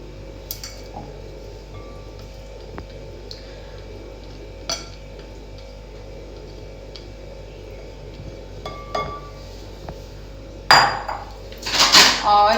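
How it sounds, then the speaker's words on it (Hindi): Yogurt goes into a mixing bowl while dishes and utensils knock faintly in a quiet kitchen, followed by a louder clatter and sharp clinks of a spoon against the bowl near the end. "यहाँ अब सबसे पहले हम ये योगर्ट इस बाउल में शामिल करेंगे।"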